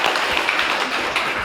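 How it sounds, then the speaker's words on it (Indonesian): Wedding guests applauding at a Batak traditional wedding blessing, a steady patter of many hands clapping close by for a brief moment. "Nah, ini tepuk tangan ya."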